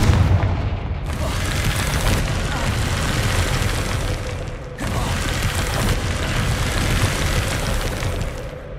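Confringo fire spell explosions in the Hogwarts Legacy video game: two heavy booming blasts a few seconds apart, each followed by a sustained crackling roar, with a voice speaking over the action.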